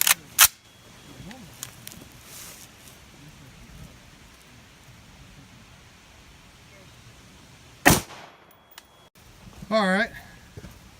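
A rifle firing .223 rounds without green tips: two sharp, isolated cracks several seconds apart outdoors against a quiet background, with people talking nearby.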